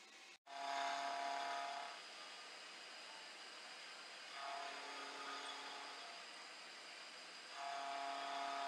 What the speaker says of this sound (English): Alright, let's get these notches done and I'll show you what we got.